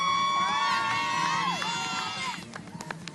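Families and former team members cheer outdoors, a crowd of high, overlapping shouts and whoops that is loud at first and then thins into scattered calls and claps.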